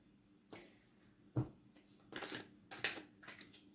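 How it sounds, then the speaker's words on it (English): Tarot cards, warped and sticking together from the sun, are shuffled in a few quiet, separate papery bursts and riffles with soft slaps between them, close by in a hushed room. "I think the sun's making the cards bend together and they're not shuffling like they normally do"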